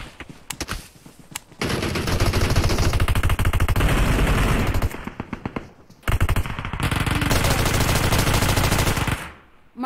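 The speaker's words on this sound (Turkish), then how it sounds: "Abi Uzi ile sıkıyor ama ya." Uzi fire in a shooting video game rips out in two long, rapid automatic bursts separated by a brief pause, loud and close, with short scattered shots before and after.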